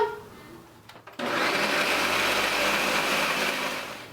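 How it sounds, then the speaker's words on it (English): A blender roars at full speed, mixing lime juice into mayonnaise for a Brazilian potato salad. The loud steady whir follows a brief stretch of quieter kitchen sounds. "Luiz is going to go ahead and blend this up again"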